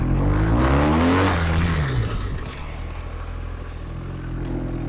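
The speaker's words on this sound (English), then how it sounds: "And the accelerating forces, the front end's coming off the ground right now." A police car accelerating hard in a driving competition, the engine roaring loud and close with rising revs that peak, then settle into a sustained, slightly lower drone.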